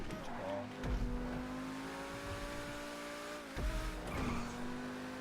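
A T20 supercar in GTA V holds a steady high engine drone through a tight corner, with brief tire scrubs and a shift in pitch midway, moderately loud with no talk.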